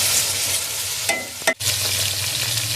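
Finely chopped onions fry in ghee for a dhaba-style egg curry: a close, continuous sizzle with spoon scrapes and a sharp clatter midway, then the crackling resumes.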